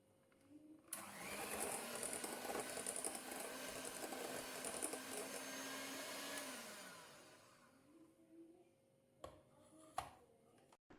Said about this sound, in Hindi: बस अब मैं इसको थोड़ा सा स्पैचुला से मिलाकर और कुछ सेकंड के लिए और बीट करूँगी